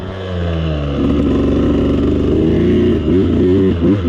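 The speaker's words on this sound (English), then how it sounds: "Don't know how loud my bike will be in the video" A dirt bike engine runs loud and close while the bike is ridden on wet ground. It drones steadily and then surges in pitch as the throttle opens and closes toward the end.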